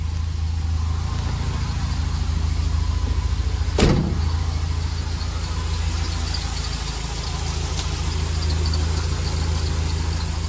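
A car engine idles steadily at close range, a low continuous hum with a brief louder burst near the four-second mark, as the car is started before being driven off.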